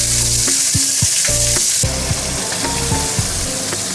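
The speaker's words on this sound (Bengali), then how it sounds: "এই পেঁয়াজটা এর মধ্যে দিয়ে দেবো।" Sliced onions drop into hot spiced oil for chicken pulao and fry with a loud, bright, continuous sizzle close by, while irregular clinks and scrapes of stirring punctuate the hiss and no one speaks.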